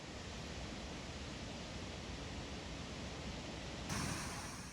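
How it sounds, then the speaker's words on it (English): Tahquamenon Falls, the large waterfall in Michigan's Upper Peninsula, roars as a steady, dense rush of falling water, constant and enveloping, swelling slightly near the end. "Tahquamenon Falls is the third largest waterfall by volume east of the Mississippi River."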